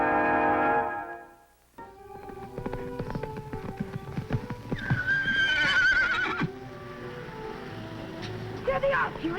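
A wild stallion gives a loud, shaky whinny, then hooves clop along with shifting outdoor noise and another neigh near the end, no one speaking.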